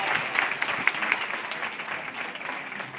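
Spectators at a Taronga Zoo seal training show give Nala the seal a round of applause, with brisk, full clapping from a sizeable crowd that tapers off gradually.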